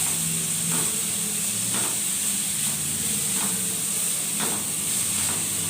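Grated carrot and chicken frying in a pan, a dense, continuous hiss and sizzle with faint stirring scrapes now and then, close and steady throughout.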